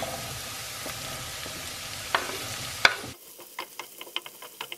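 Food stir-frying in an oiled pan, a sizzle under scraping and stirring with a couple of sharp utensil clinks, after which the sizzle drops away and only scattered, quieter taps remain.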